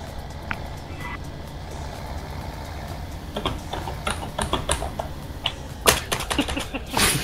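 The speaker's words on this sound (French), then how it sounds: "Ce qui est bien avec Guy, c'est qu'on l'entend sauter avec son clavier." Clicks from someone playing a farming game on a computer keyboard, sparse at first, then quicker bursts of taps with a couple of louder strikes near the end, over a constant low background hum.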